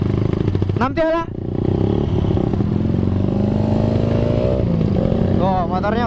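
Motorcycle engine roaring steadily while riding in slow traffic, a loud continuous drone with a brief dip, and someone speaking over it near the start and end.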